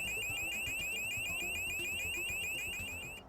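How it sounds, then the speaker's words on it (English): A loud electronic alarm from a smart traffic cone lamp, set off by movement or impact, sounding continuously, rapid repeating rising chirps in a fast steady rhythm, close and piercing. "when moved or there is an impact, the alarm will be activated"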